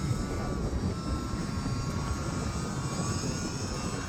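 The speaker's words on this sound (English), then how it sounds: "This airplane, for as many times as I've crashed it, it's doing pretty good." Small UMX Turbo Timber RC airplane flying in wind, its motor a steady buzzing whine carried over constant gusty wind noise, moderately loud throughout.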